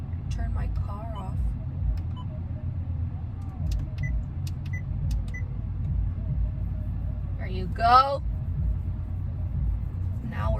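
A parked car's engine idles with a steady low rumble throughout, while someone talks over it and a brief rustle comes near the end.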